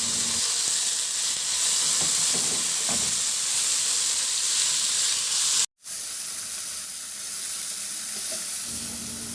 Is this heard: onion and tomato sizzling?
yes